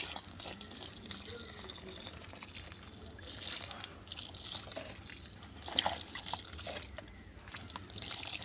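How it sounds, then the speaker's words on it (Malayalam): Water poured onto dry soil in a grow bag for ginger, a soft continuous trickle and splash with faint drips, quiet and close, with light background noise throughout. "ഈ മണ്ണിന് ഈർപ്പമില്ല അതുകൊണ്ട് ഞാനൊന്ന് നനച്ചു കൊടുക്കുകയാണ്"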